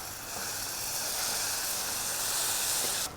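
Golden ghee-roasted vermicelli goes into a hot pot for semiya ven pongal, setting off a steady, loud hiss and sizzle that holds for about three seconds before cutting off abruptly.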